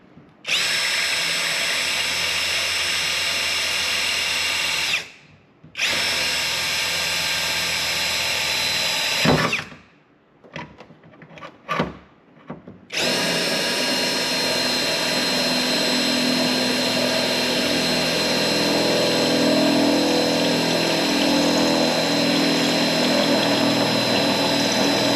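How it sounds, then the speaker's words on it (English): A power drill bores holes into a car bonnet in long, steady, loud whining runs, broken by a few short pauses and brief stop-start bursts, then running continuously near the end. "I'm going to drill holes nicely and level on there"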